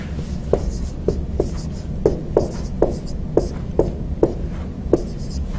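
Numbers being written by hand in set notation make a quick series of short, scratchy strokes, about a dozen evenly paced taps and scrapes, close and clear with no talking.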